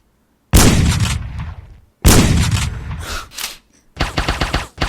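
Rapid bursts of gunfire from weapons being test-fired in a heist video game, three loud close volleys separated by short pauses, the last a quick stuttering automatic burst.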